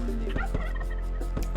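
Turkeys gobble repeatedly in the video game Age of Empires II, a dense run of rapid, warbling gobbles layered over a steady low game hum, alone without talk.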